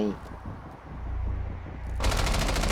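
Rapid automatic gunfire in Rainbow Six Siege, crackling close and loud, swelling into a dense sustained burst near the end over a low rumbling game backdrop.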